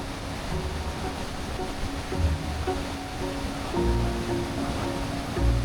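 Steady, immense roar of the upper falls on the Temperance River in Minnesota, a dense broadband rush of falling water close by, continuous with slight surges and no voices.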